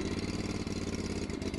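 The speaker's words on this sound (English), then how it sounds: "Move the choke lever forward and turn the ignition key." The small engine on an Exmark stand-on aerator fires up and runs close by, a steady, pulsing mid-pitched idle with a slight uneven throb.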